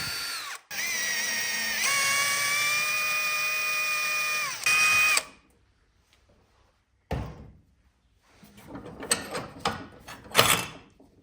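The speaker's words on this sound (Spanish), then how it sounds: "Vamos a marcar otro agujero que taladraremos y roscaremos a métrica 8." A power drill bores a hole in metal for an M8 thread while building a steel pellet stove, whining loudly for about five seconds, then falling silent before scattered metallic clunks and handling knocks.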